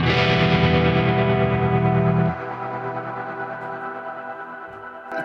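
A guitar chord rings through a Kemper Profiler with heavy effects processing, loud and sustained at first, then drops to a softer, wavering decay with the dry signal removed, and ends with a faint pluck.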